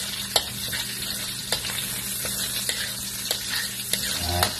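Onions sauté in a pan for ginataang kalabasa at sitaw, giving a close, constant sizzle broken by regular spatula taps and scrapes.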